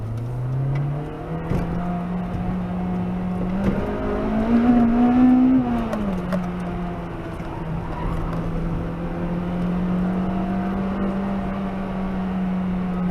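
A Honda Civic Type R is driven hard along a narrow road, its engine a steady loud drone that swells and revs up midway, then settles back to an even pull, with no talking.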